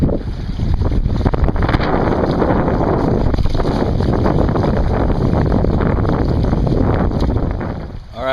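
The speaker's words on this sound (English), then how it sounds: "The wind is a pain in the butt." Strong 15-25 mph coastal wind buffets a microphone in loud, continuous low rumbling gusts that swell and ease but never stop for the whole stretch, with no clear voice over it.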